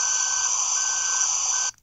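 A loud, steady electronic tone sounds in Farming Simulator 18 while a vehicle backs up, holding unbroken for almost two seconds before cutting off abruptly, alone with no talk.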